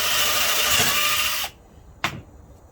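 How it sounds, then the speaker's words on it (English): A power drill whirs loudly into material for about a second and a half, stops, then gives one short burst. "you drill this one here"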